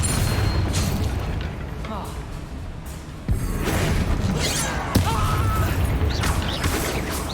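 A Bombarda blast spell in the Hogwarts Legacy video game goes off as a sudden booming burst, joined moments later by a second sharp impact, over a dense bed of game battle noise and spell effects.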